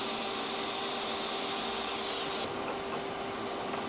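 Steady abrasive grinding hiss of a tool polishing a fresh weld on a turbo kit, loud and continuous close by, with a steady tonal whine beneath and a slight drop in pitch partway through; no talking.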